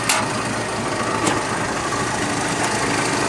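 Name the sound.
1929 Ford Model A Roadster engine idling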